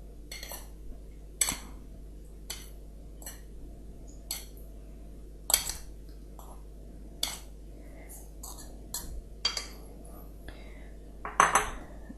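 A knife cuts room-temperature softened butter into small pieces for a red fruit crumble, making a series of sharp taps and clicks on a board with quiet kitchen sounds and faint murmuring between cuts.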